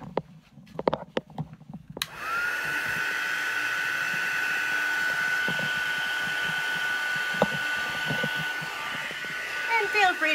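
A heat tool blowing hot air over glow-in-the-dark craft paint gives a steady whooshing fan hiss with a thin whine. It starts abruptly after a couple of seconds of soft handling clicks and runs continuously, fairly close and moderately quiet.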